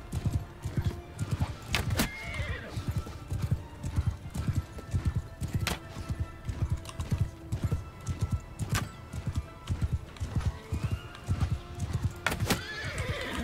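Horses gallop in a steady, rapid clip-clop rhythm through a Mount & Blade II: Bannerlord battle, with several loud whinnies and neighs rising above the hoofbeats.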